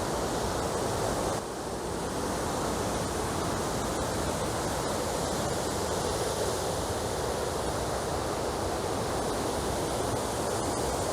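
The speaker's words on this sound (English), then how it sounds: "Quite interesting having both waterfalls here." Twin waterfalls beside a building pour with a dense, continuous roar of rushing water, loud and steady with no pauses and no voices.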